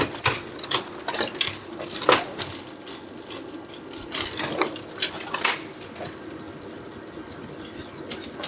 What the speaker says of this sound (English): that's the sound of them being redistributed